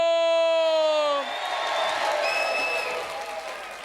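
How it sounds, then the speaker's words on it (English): Studio audience at a BBC National Lottery game show clapping and cheering with whoops, rising after a sustained musical chord fades and continuing at moderate level. "let's give a big round of applause, please, for all of the Jet Set crew, camera, sound, light, the Camelot people"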